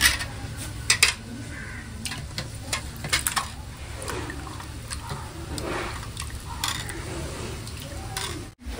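A spoon clinks and scrapes against a pan while the onion base for a mullet fish curry sautés, with frequent close metallic taps and stirring strokes over a soft low sizzle.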